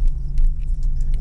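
A car engine idles steadily right after being started, a close, continuous low rumble with no break across the short stretch.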